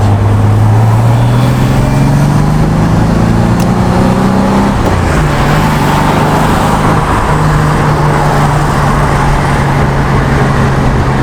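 A Reliant car converted to manual steering drives along a road at about 40 mph, its engine a steady low drone with a gear-change dip partway through and constant road and wind noise, alone without talk.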